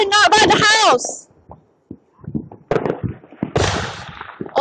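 Fireworks going off at a July 4 celebration in a residential area near houses, with sharp bursts and crackles mixed among loud overlapping voices and shouting close by.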